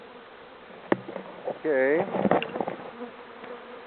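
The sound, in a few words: honeybees buzzing during hive inspection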